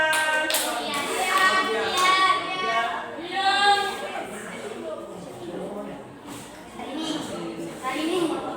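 Students in a school floor gymnastics class on forward rolls clap their hands together, sharp taps scattered through the clip beneath a teacher's steady speech and children's voices.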